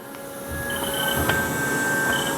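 A 2012 Haas VF3YT vertical machining center runs its spindle in low gear, producing a steady mechanical drone with thin high tonal whines that shift slightly, plus a brief clank partway through, no voices.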